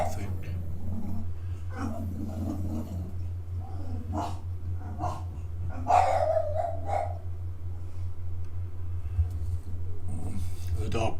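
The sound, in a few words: dog barking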